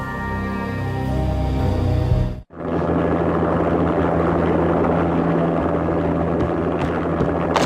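An armed helicopter landing on manor grounds in the video game Max Payne, a loud steady rotor and engine drone that cuts out briefly and then resumes at full strength, with no talking.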